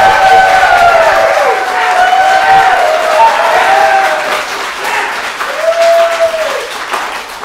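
Loud crowd applause and cheering fill the whole stretch, with voices whooping over the clapping.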